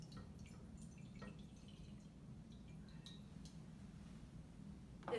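Water poured into a bowl standing in for a petri dish trickles and drips faintly and close by, with soft scattered drops and a small splash at the end.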